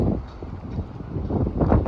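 Strong desert wind gusts across a garden of mulched beds, buffeting the microphone with a low, uneven rumble that swells and eases, no voices.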